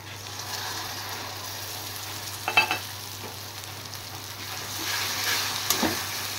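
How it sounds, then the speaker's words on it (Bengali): Spice paste with ground garam masala frying in a pan as green chili paste goes in, a faint steady sizzle with a brief scraping stir near the middle and another burst of sizzling later. "আর এই মশলাটা যখন ফ্রাই করা হবে তার সাথে একটু গুঁড়ো গরম মশলা দিয়ে দিতে হবে"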